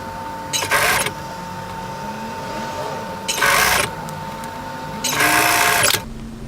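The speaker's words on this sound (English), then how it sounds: "So let's go back to our overlocker and attach that." An overlocker sewing a seam on a tie-front dress, three separate bursts of fast, whirring stitching close by, with a steady tone and quieter gaps between runs.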